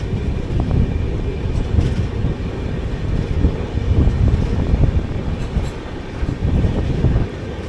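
The 16331 Mumbai CSMT - Trivandrum Weekly Express, heard from inside while running, gives a loud continuous rumble with rhythmic clickety-clack of wheels over rail joints and no talking.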